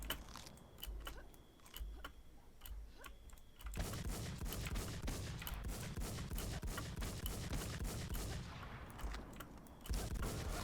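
Rapid gunfire from a shooting video game crackles in dense, continuous bursts, with sharp repeated shots and brief lulls, heard fairly close with no talking.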